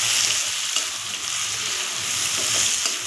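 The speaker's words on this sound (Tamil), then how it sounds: "கொத்தமல்லி, தக்காளி ரெண்டும் சேர்த்துட்டு நம்ம போட்டுட்டு நல்லா வதக்கணுங்க எண்ணெயில்" Tomatoes and coriander sautéing in oil for a fish curry, a steady close sizzle with occasional stirring scrapes, no voices.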